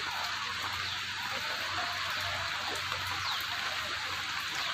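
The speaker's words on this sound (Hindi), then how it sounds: "और अभी भी बारिश हो रही है" Heavy rain falling outdoors over flooded ground, a steady dense hiss of drops that continues evenly without a break.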